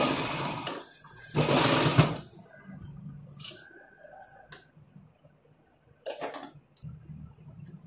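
A sewing machine stitching a blouse runs in two short whirring bursts, the first longer, with quiet clicks and light handling noises in the pauses.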